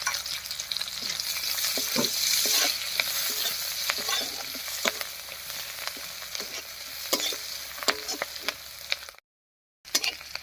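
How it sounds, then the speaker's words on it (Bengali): Crushed garlic and green chillies fry in hot oil with a steady close sizzle and scattered crackles and spits, continuing for about nine seconds before a sudden brief silence and a short return of sizzling. "রসুন আর লঙ্কাটা ভাজা ভাজা হয়ে গেছে"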